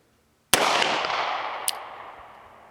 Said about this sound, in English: Sweet shooting little gun, but it does have some recoil.